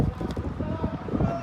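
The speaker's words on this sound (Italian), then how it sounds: "Nel frattempo continua ad intensificarsi il vento" Wind buffeting the microphone at an outdoor youth football match, a steady rough roar filling the whole stretch with no clear voices.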